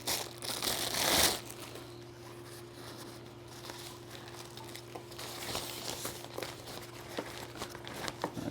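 A bag holding softbox diffuser material for a studio light kit is handled and opened, with a loud burst of plastic crinkling at first, then quieter scattered rustles and crackles over a steady low hum.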